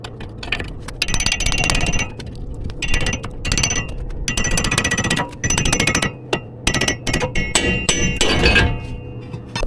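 Heavy, rapid metallic hammer strikes ring out on a ball joint separator tool while splitting the lower ball joint from the knuckle on a 2007-2013 Chevy Silverado 1500, loud and close, in dense bursts with short pauses.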